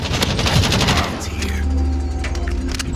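Rapid bursts of army gunfire ring out in a Jurassic World Dominion dinosaur video game, a loud, dense rattle of machine-gun fire that pounds on steadily over a low engine-like drone with no speech.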